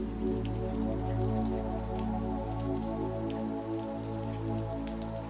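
Steady rain patters on a glass pane in a continuous, even wash of droplets, close and moderately loud, with a low sustained hum beneath and no voices.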